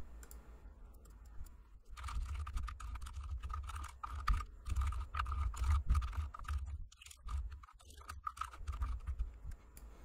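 Quiet, close computer keyboard typing while writing code, with irregular bursts of clicky keystrokes and short pauses between them.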